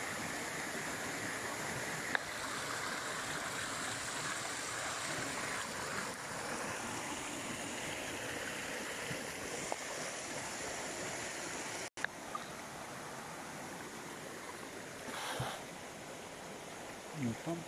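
Creek water flows steadily beside a water-powered pump fed by PVC pipe, a faint continuous rushing wash with a few soft knocks and bumps near the microphone.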